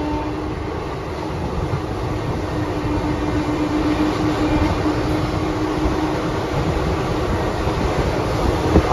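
The Circar Express, running from Kakinada Port to Chengalpattu, passes near Meenambakkam station, heard from on board as an unbroken, steady rumble and rattle of wheels on track, fairly loud throughout, with no talk.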